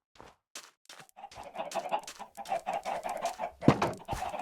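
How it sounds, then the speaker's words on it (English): Minecraft chickens cluck in rapid, uneven bursts, fairly close and clear with short pauses between the calls and no talking over them. "There's my chickens."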